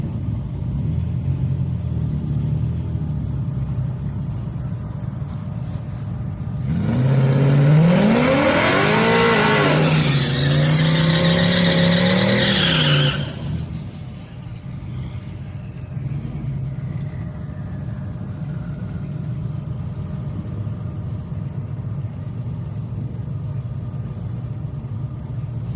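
A Mustang and a Camaro launch in a drag race at Houston Raceway Park on a Friday street night, engines roaring loudly past for several seconds with rising revs, then fading into distant crowd and track ambience.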